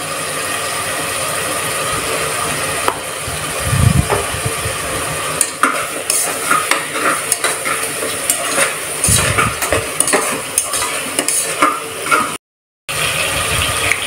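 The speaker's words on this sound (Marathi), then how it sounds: "टोमॅटो परतून तयार होऊन जाईल। तर याला आपण पुन्हा मिक्स करून घेऊया।" Tomatoes and onion sautéing in a pan for pav bhaji, with a spoon scraping and stirring in irregular bursts over a steady soft sizzle, close by and moderately loud, with a brief dropout near the end.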